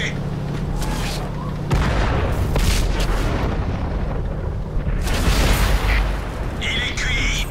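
Tank cannon blasts from a World of Tanks battle with the VK36 tank, heavy booming shots and rumbling impacts landing over a continuous low engine drone, with a voice speaking in between.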